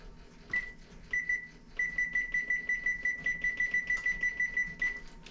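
High electronic beeps from a kitchen timer being set: a few separate beeps, then a long run of quick, evenly spaced beeps with no talking.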